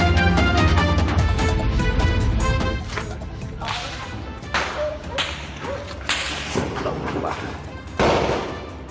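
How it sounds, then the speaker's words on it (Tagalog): Gunfire rings out in Tipo-Tipo, Basilan, with a rapid burst of sharp cracks at the start followed by scattered single shots and echoing bangs, over a noisy outdoor background. "Umalingaw-ngaw ang mga putok sa bahaging ito ng tipo-tipo Basilan kaninang umaga."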